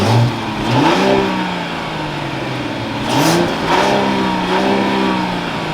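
A 2024 Mercedes-Benz CLE450 coupe engine fires up nearby, cranking into a loud rising rev flare before settling into a steady idle, then blipping up again in a couple of throttle rises.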